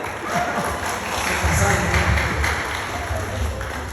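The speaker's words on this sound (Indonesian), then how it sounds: "Nah, tepuk tangan buat Pak Dev." Audience applause in a church sermon setting, a broad steady wash of clapping sustained over several seconds with a crowd murmur beneath.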